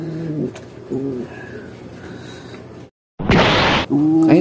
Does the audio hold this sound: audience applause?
no